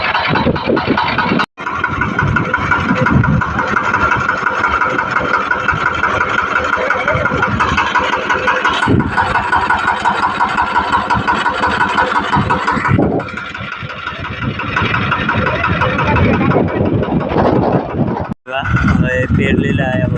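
A tractor engine runs loud and close in a Konkan farm field at sowing time, a continuous mid-pitched drone with a few brief cut-outs, while voices come and go over it.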